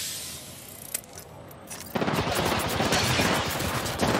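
Rapid automatic gunfire in the video game Apex Legends erupts halfway through and continues densely to the end, following a quieter lead-in with a few isolated clicks and thumps.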